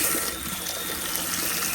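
Tap water running at an off-grid ranch near the Grand Canyon: a steady, hissing rush of flowing water, continuous and close, with no talk over it.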